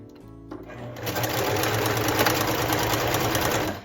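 A sewing machine stitches a dress seam with a narrow allowance, starting up and then running at a fast, steady whir for several seconds close to the microphone.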